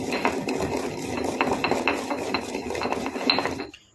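A dried ingredient is ground into fine powder by hand, giving a close, steady scraping and grating with rhythmic scratchy strokes that stop abruptly at the end.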